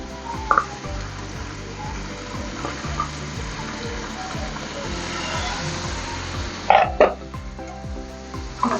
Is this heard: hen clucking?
no